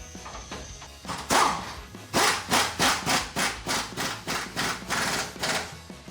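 Ratchet with a 19 mm socket snugging strut bolts during a front strut install on a Toyota Tacoma, a close run of about a dozen rhythmic clicking strokes in steady succession, no voice.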